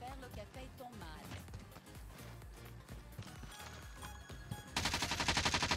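Gunfire in a video game, dense bursts of shots over busy game sound, with a voice talking partway through and a loud rattling burst near the end.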